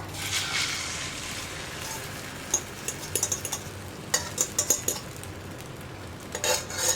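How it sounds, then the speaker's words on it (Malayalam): Beaten egg poured into an oiled pan for a masala omelette, a soft steady sizzle with scattered clinks and scrapes of a utensil against the pan, close and fairly quiet. "ഇനി നമ്മൾ ബീറ്റ് ചെയ്ത് വെച്ചിരിക്കുന്ന മുട്ട ഒന്നുകൂടി ഒന്ന് ബീറ്റ് ചെയ്ത് നന്നായിട്ട് പതഞ്ഞു വരുന്ന രീതിയിലൊന്ന് ഒഴിച്ചു കൊടുക്കുക."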